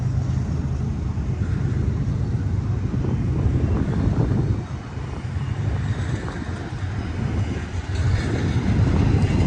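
A Ford stack train hauled by four locomotives rumbles past, a loud, heavy low-pitched roar with steady rolling wheel noise, punctuated by wind gusts hitting the microphone.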